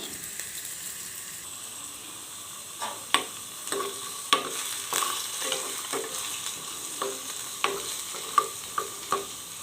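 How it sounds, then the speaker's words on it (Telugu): Potato pieces frying red in hot oil for a potato, eggplant, tomato and pea curry: a continuous sizzle runs throughout while a spoon repeatedly scrapes and clacks against the pan in irregular strokes, with no talk. "ఇప్పుడు ఈ ఆయిల్లో ఆలుగడ్డ ముక్కలు కూడా వేసుకొని వాటిని కూడా ఎర్రగా ఫ్రై చేస్తున్నాను"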